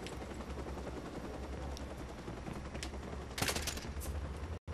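Sustained bursts of automatic rifle fire, likely an AK, from the Watch Dogs video game, rapid rattling shots under a steady low rumble, with one sharper, louder volley near the end.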